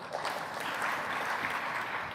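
An audience at a computer vision conference talk claps, a dense, sustained patter of hands at a steady level across the whole moment, with no voices over it.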